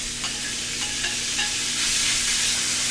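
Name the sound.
thin beef sizzling in a smoking-hot pan, stirred with a spatula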